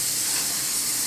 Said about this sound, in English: I'm gonna take my bowl and just rinse it off